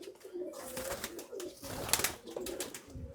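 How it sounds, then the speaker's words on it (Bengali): Teddy pigeons cooing softly, a few low throaty coos close by with faint rustling and a brief sharper burst midway, fairly quiet overall. "এই হচ্ছে টেডি কবুতর।"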